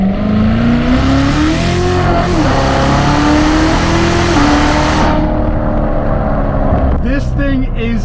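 A Corvette C7 Z06 engine roars at full throttle, its pitch climbing steadily as it accelerates hard, loud and close, before a brief gear change and another surge.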